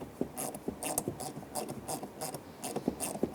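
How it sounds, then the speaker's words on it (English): An extractor socket on a ratchet working a throttle position sensor nut on a Honda Element, a quick series of faint, close clicks in an uneven rhythm. "we're going to try and rock this extractor bit off of the actual nut here"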